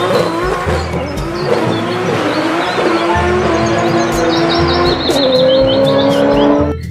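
Toy race car sound effect with a revving engine whine, squealing tire noises and high chirps, loud and continuous from start to finish without any voices.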